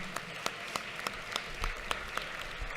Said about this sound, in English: Why don't y'all stand up so that we can give you an applause?